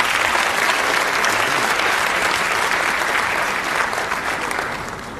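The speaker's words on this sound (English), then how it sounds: "I think they deserve another applause" An audience applauds school children at a Sierra Leone mining week event, with loud, dense, sustained clapping that carries evenly throughout and eases slightly at the close.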